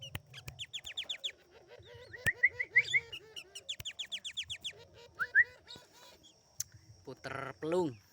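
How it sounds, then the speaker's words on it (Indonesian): A puter pelung turtle dove coos in low, wavering notes among busy chirps and trills from other caged songbirds, all fairly close, with faint background voices. "Ini puter pelung."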